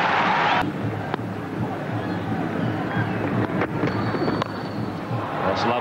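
Roar of a large cricket crowd as Australia lose their first wicket against Sri Lanka, a broad loud swell that settles into a steady wash of distant crowd noise.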